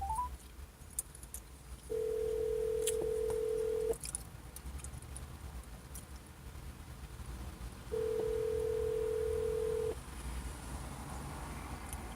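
A telephone call rings out as two long, steady ringback tones, each about two seconds and spaced apart, over faint background hiss.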